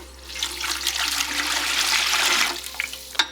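Hot water poured from a container into a mixing bowl while making cinnamon roll dough, a steady, fairly loud rushing splash for about two and a half seconds that tapers off, heard alone without talk.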